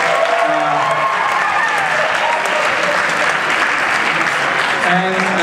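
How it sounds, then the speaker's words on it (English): An audience at a high school drama club production applauds the backstage crew, loud dense clapping that runs steadily throughout. "make sure you give them a round of applause for all that they did"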